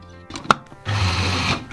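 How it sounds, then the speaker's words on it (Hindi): An electric chopper whirs loudly, mincing boiled, deboned chicken into keema; a brief clatter and click come first, then the motor runs in a steady, close, continuous burst. "अब मैं इसको चॉपर में चॉप करूँगी"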